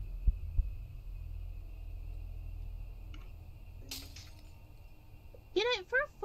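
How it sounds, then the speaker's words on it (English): A low, steady heartbeat effect throbs through a tense moment in the ghost-hunting game Ghost Exorcism Inc, a continuous pulsing hum under a hushed scene, with a brief voice near the end. "I do not like the heart beating."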